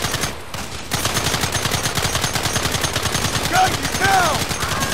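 Rapid sustained gunfire in Red Dead Redemption, dense repeated shots crackling steadily throughout, loud and close, with a shouted voice and a brief whistling sound over the shooting.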